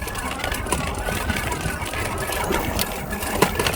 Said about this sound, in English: I kind of hear it grinding a little bit.